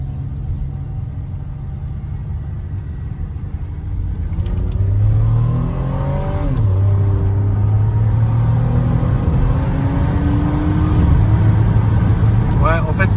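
An Opel Insignia OPC revs and pulls under acceleration, its engine note rising steadily in pitch, dipping briefly, then climbing again as a low road rumble continues throughout, with people talking inside the car over the engine.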